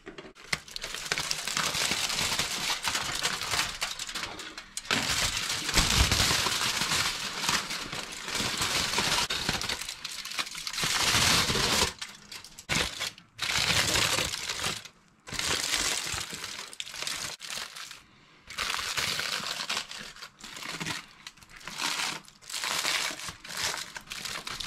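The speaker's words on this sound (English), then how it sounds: "I'm going to take this foil off now" Aluminium foil peeled and crumpled off a tray of goat slow-cooked for 18 hours, giving loud close crinkling and crushing in long bursts with brief pauses, continuing throughout.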